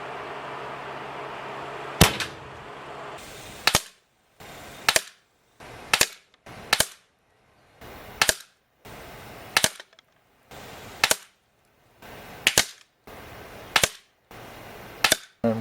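About eleven sharp, loud cracks of shots fired freehand from a Bug Out Super Drifter with its scope removed, spaced roughly a second apart, each followed by brief quiet.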